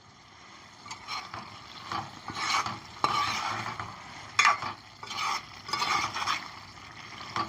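A spoon stirs cauliflower curry in a pan with irregular scraping strokes, close and moderately loud, over a faint background sizzle.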